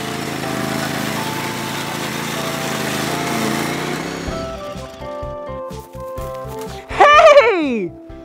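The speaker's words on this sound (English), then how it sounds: "It's a lawnmower!" A lawn mower engine runs with a steady, dense buzzing drone for about four seconds, then gives way to bouncy children's music.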